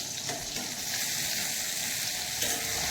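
Eggplant slices frying in hot oil, a steady close sizzle with faint crackle throughout, no voices.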